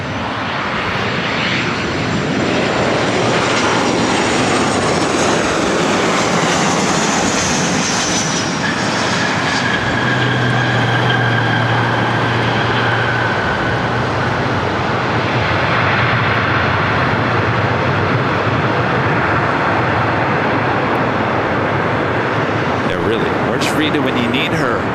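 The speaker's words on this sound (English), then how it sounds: "United flight coming in from SFO at next arrival" A United airliner arriving at LAX from SFO roars in as a loud, sustained broadband engine rumble that swells and holds over many seconds, heard from nearby.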